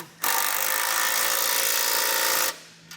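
A power tool snugs down bolts while a base plate kit is installed on a 2015 GMC Canyon: one loud, steady whirring burst of about two seconds, starting and stopping abruptly.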